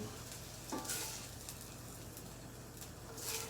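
Meatballs sautéing in a pan for a smothered meatball Sunday dinner give a steady, fairly quiet sizzle, with a few brief louder crackles and scraping bursts from turning them.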